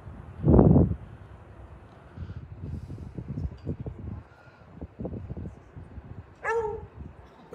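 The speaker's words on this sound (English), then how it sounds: "Oh, we got a dog in the house." A dog barks once, loud and close, at a USSSA baseball field during bat testing, followed by rustling and field noise, with a brief whine or yip near the end.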